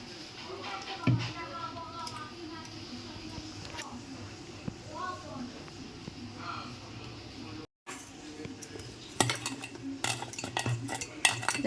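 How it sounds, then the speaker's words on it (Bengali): Flour dough kneaded by hand with small splashes of water for clove-shaped lobongo lotika sweets, giving soft squishy and scraping sounds with faint clinks of utensils, close and fairly quiet, pausing briefly midway. "এবার আমি এটাকে অল্প অল্প জল দিয়ে মেখে নেব।"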